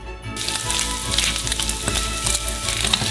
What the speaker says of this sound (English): fry into a frying pan until crispy.